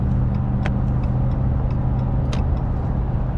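A 2019 RAM 1500 pickup with a Hemi V8 accelerates at about half to two-thirds throttle, giving a steady, full, low engine rumble with road noise from inside the cab.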